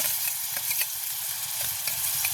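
Onion and green chilies frying in a pan, a dense, loud, continuous sizzle with quick crackles and light stirring throughout, close by and free of voices.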